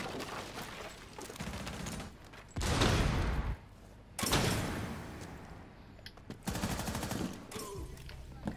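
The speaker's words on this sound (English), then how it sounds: "I'm gonna chuck some flashbangs in there." Flashbang grenades going off in the Rainbow Six Siege video game: three loud, harsh bursts spaced a couple of seconds apart, each over a steady bed of game noise.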